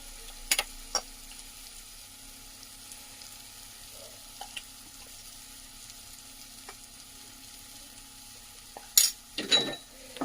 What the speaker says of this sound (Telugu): మసాలా యాడ్ చేసుకొని కలుపుకుందాము